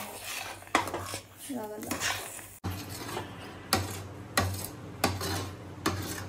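A thick sweet mixture for a 7 cups sweet is being stirred in a metal vessel, with a ladle repeatedly scraping the bottom and clinking against the sides. The strokes come in a steady rhythm, close and clear, and a brief spoken word is heard.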